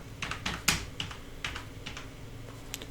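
Typing on a computer keyboard while entering text into a web browser, a quick irregular series of close, crisp key clicks with short pauses between bursts, no voices.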